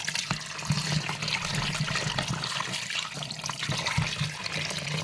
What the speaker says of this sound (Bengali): মাছটাকে এখন ধুয়ে নিই আমি ভালো করে